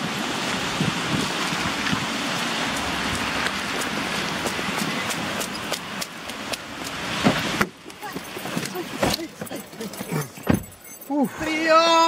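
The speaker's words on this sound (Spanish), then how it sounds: "Ahora sigue lloviendo, so vamos a tener que volver a correr." Rain falls outdoors in a steady, dense hiss for most of the stretch, then thins out as louder voices and sharp bursts of nearby movement take over near the end.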